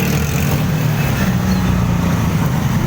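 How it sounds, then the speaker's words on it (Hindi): Busy road traffic in the crowded Baghbanpura bazaar in Lahore, a dense steady roar of car, truck and bus engines close by with no break. "आप ट्रैफिक देखें कि कितना गुंजान आबाद है।"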